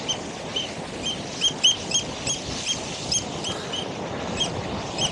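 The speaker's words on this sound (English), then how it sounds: "I can hear some birds in the distance chirping." Faint birds chirp in the distance beside a coastal lighthouse near rocks, with short scattered calls repeating over a constant wash of wind and sea noise.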